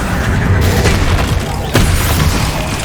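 A Bombarda blast spell goes off in Hogwarts Legacy, a loud booming explosion with a sharp crack partway through over a dense, rumbling game soundscape.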